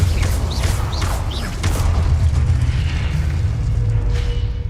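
Confringo blasting spells explode in Hogwarts Legacy gameplay, a string of loud booming blasts over a constant deep rumble, with brief whooshing bursts between them and no talk.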